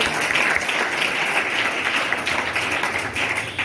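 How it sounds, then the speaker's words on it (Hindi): Loud, dense applause from an audience at a government school event in Bihar where children spoke about the constitution, a steady unbroken roar of many hands clapping throughout. "ताली बजाइए जोर से।"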